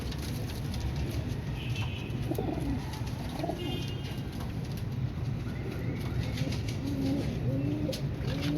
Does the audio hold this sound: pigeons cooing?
yes